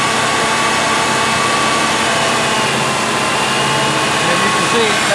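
A Ford Taurus alternator spins at about 2,000 RPM under a 100 amp load on a test bench, producing a loud, steady, broadband whirring drone that holds unchanged throughout.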